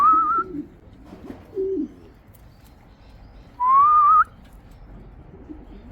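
Young racing pigeons returning home after a 180 km race give two clear, loud whistling calls, each under a second long, with soft cooing between them close by.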